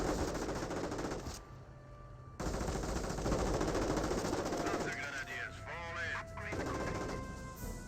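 Machine gun and rifle fire rattles against an STG squad in a Company of Heroes battle, with bursts of rapid shots, brief chirping sounds and a short quiet gap early on.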